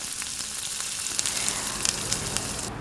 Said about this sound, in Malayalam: മീഡിയം ഫ്ലെയിമിൽ ഇട്ടിട്ടാണ് നമ്മൾ ഇതിങ്ങനെ വറുത്തെടുക്കുന്നത്